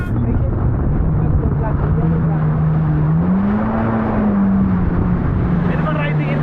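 Jet ski engine held at a steady throttle, a continuous droning hum that rises briefly in pitch and then settles, with wind and water noise all around.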